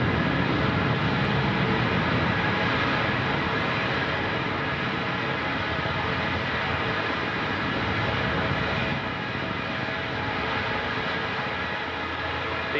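Cargo ship rocket launching to the International Space Station, its first-stage engines at full thrust producing a steady, loud, broadband roar that holds unbroken throughout, with faint talk underneath.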